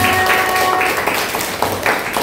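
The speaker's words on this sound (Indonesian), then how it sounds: "Tepuk tangan untuk dia." Short burst of applause from a secondary school science class, a dense patter of many hands clapping close by for about two seconds.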